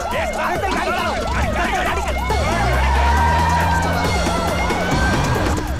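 A police siren wails in repeated rising and falling sweeps, loud and steady throughout, over a low rumbling engine and traffic noise as it draws near.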